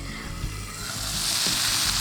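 Chicken hariyali kabab frying in a pan, a close, bright sizzle that swells louder over two seconds with faint stirring.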